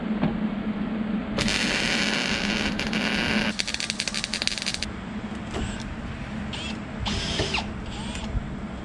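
A power drill driving screws into a Jeep Grand Cherokee whirs in two bursts, one high-pitched run then a rougher grinding run, followed by shorter intermittent spins and clicks.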